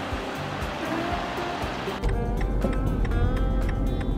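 Sea waves wash onto the shore right in front of a seaside inn at Ogushi Onsen in West Izu, Japan, a steady broadband roar that grows louder and fuller halfway through, with no voices.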